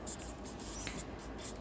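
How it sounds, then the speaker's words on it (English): Pen writing by hand on paper while working out a hexadecimal to decimal number conversion, a faint continuous scratching with small strokes, close and quiet, with no talking. "I am writing it like this"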